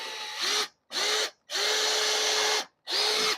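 Four bursts from a power drill driving a 3.5-inch screw through a French door jamb, each burst a rising whine with short pauses between, up close and loud.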